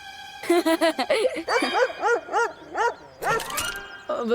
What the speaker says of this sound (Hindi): ये बात असली कुत्ते को पसंद नहीं आई, इसलिए वो तो इनके पीछे पड़ गया।